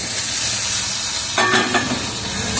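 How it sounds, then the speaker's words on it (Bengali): Chopped pointed gourd hits hot oil in a pan already holding sugar and ground chilli for a gourd-and-shrimp dish. A steady background hiss suddenly swells into loud, close crackling sizzle that keeps bubbling, with no voices. "পটলটা এবার ঢেলে দিচ্ছি"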